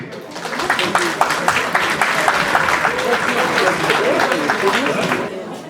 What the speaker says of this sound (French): On applaudit le marié.